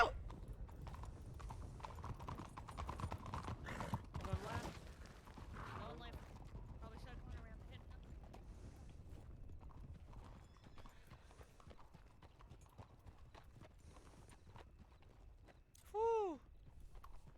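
Horses gallop in the Red Dead video game, a dense, steady drumming of hooves that goes on throughout, with a whinny near the end and voices talking faintly underneath.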